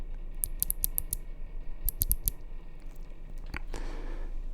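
Typing on an Akko Monsgeek M1 V3 mechanical keyboard during a sock test: quiet clusters of sharp key clicks in quick bursts, with a softer rustle near the end and no talking.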